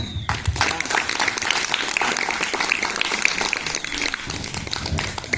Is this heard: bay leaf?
no